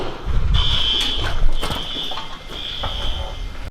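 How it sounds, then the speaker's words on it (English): A fire alarm goes off indoors, sounding loud, high-pitched tones that repeat in long pulses with short gaps, over a busy background of room noise and footsteps. "Fire alarm just went off, and Heather went over to the fridge trying"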